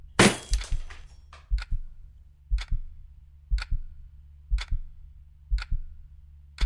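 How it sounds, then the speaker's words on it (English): Light bulbs pop and shatter in a series of sharp glassy cracks, about seven separate bursts spaced roughly a second apart with a steady low hum beneath, each crack loud and close. "The light bulbs were popping out."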